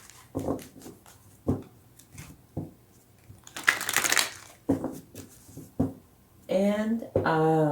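Oracle cards are riffled and shuffled in brief scattered bursts of papery rustling, mixed with a voice talking over them.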